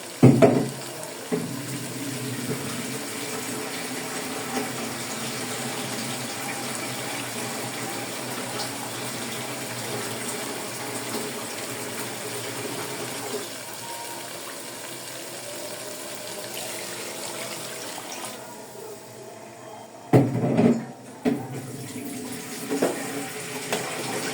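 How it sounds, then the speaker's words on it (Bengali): Water pours steadily into a pan of braised chicken curry, a continuous gushing splash running for about twenty seconds before a brief clatter and a louder burst near the end. "পানি দিয়ে দেব।"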